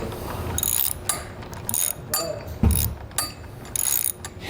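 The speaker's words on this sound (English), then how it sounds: "I'm going to be using a 9/16" wrench on the other side to keep it in place and a 9/16" socket to run these all the way up" A 9/16 inch ratchet socket runs nuts onto the bolts of a Dutton-Lainson covered hand winch, making repeated close ratcheting bursts in quick irregular strokes with brief pauses between them.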